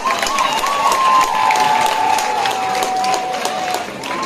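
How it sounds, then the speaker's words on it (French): An audience at a school ceremony at a bilingual lycée applauds loudly, a close, dense burst of clapping and crowd noise with a steady whistle-like tone running through it. "Je vous prie d'applaudir pour le Papa Talla."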